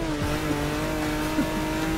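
An old Ferrari race car in Forza Motorsport 6 holds a steady engine drone with tire noise and faint squeal through two seconds, moderately loud and continuous, with no talk.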